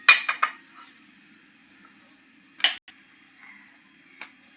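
Momo dough being rolled out on a floured wooden board: a quick cluster of sharp knocks and clicks, then a lone louder clack and a faint tap, with near silence between.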